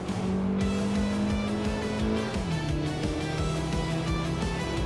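A 1986 Alfa Romeo Spider QV race car roars at sustained high revs with a steady engine drone, the pitch stepping down at a gear change partway through and tyres faintly squealing, loud and continuous.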